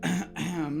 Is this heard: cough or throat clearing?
yes